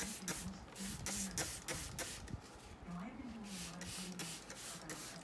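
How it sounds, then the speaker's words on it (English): Quick repeated spritzes of a spray bottle misting an Oncidium orchid, close and sharp, fire in a rapid series with soft rustling and faint background hum. "I'll give it another spray"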